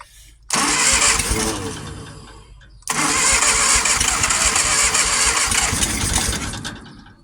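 A Triumph Vitesse 2-litre engine cranks and catches twice, each time surging into a loud, rough, close running roar that fades down; the second start holds longer before dying away.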